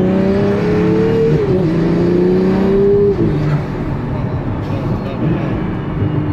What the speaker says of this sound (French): Quelle bagnole! La boîte de vitesse est exceptionnelle.